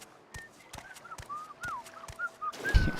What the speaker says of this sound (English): Fargoth, whistling as if he has nothing to hide.